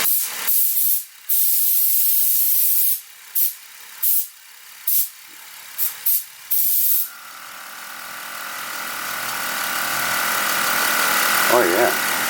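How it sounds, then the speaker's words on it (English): A rebuilt ViAir air compressor vents air in several loud, sharp hissing bursts, then settles into one long, steady, strong hiss that grows slightly louder, heard close up. "Squirt out some air. So you can hear it."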